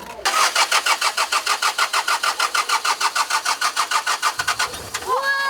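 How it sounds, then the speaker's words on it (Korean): The large diesel engine of an old used bus cranks with a rapid, steady rhythmic chugging for several seconds, then catches and settles into a loud idle. "진짜 시동 걸어봐야지."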